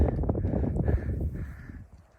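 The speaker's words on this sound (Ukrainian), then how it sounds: "Пташки літають, ворони, чи круки" Hoarse crow caws repeat a few times over low rumbling wind and outdoor background noise on Hoverla mountain in Ukraine, moderately distant.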